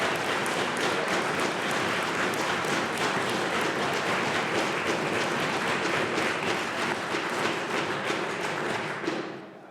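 Applause fills a provincial legislative chamber during question period, a dense sustained patter of many hands clapping, loud and steady, fading out at the very end.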